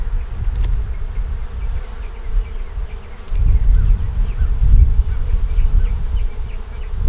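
Honey bees droning at an open, honey-bound beehive, a dense continuous buzz close by, swelling louder midway as insects fly near.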